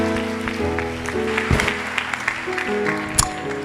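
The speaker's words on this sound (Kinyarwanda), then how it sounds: "Tuyongera amashyi menshi" In a church, a congregation breaks into applause: scattered claps ring over steady droning tones and a crowd murmur, with a few sharper bursts of clapping.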